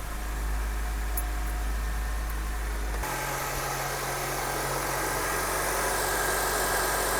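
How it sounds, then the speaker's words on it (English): A 2002 Honda CR-V engine idles steadily after a misfire repair, a continuous low hum with a steady drone that deepens partway through, and no talking. "Idling really smooth"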